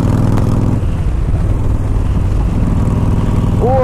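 A Yamaha Stryker motorcycle runs with a loud, close, steady engine rumble that holds at an even level for the whole stretch. No talk is heard.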